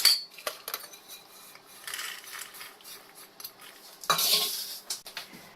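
Spiced roasted makhana is scraped with a spoon from a metal pan into a bowl, making a string of close, light metallic clinks and scrapes with short gaps and one louder rattle near the end.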